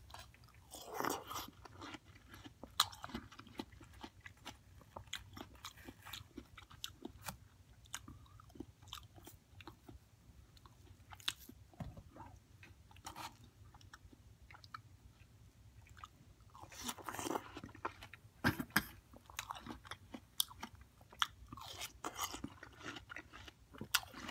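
Seasoned watermelon is bitten and chewed up close. Quiet, wet crunches and mouth sounds come in irregular bursts, with soft squishy chewing between bites and no talking.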